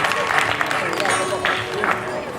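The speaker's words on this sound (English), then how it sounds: "give yourselves a round of applause for crying out loud" An audience claps and cheers together, a dense, lively burst of applause filling the room.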